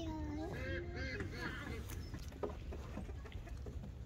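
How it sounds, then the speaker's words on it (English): Ducks and other fowl at an animal feeding spot quack and honk in a busy outdoor mix, with a nearby voice speaking over the calls. "Charlie, there's a duck."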